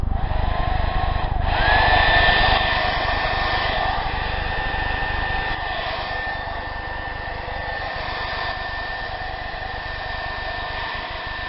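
A hair dryer blows loudly and close on painted newspaper flowers, a steady whooshing roar with a whining motor tone that starts up with a brief jolt and then drones on continuously.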